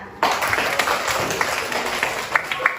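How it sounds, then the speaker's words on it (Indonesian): Classroom applause after a teacher invites the class to clap for students who scored 100, with a steady run of clapping and a few sharper individual claps standing out, fairly close in a room. "mari kita berikan tepuk tangan"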